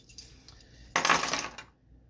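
A bunch of keys drops with a short jangling metallic clatter beside a Michael Kors handbag, close and fairly crisp, lasting well under a second before settling into quiet.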